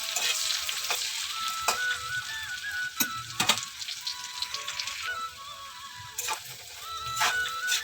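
Boiled potatoes fry in a pan at home, giving a steady crackling sizzle with several sharp scraping knocks of a utensil stirring against the pan, close by and with no talk.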